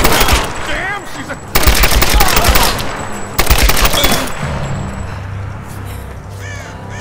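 Automatic gunfire from the 2013 Tomb Raider video game crackles in dense, rapid volleys for about four seconds, then gives way to quieter game ambience.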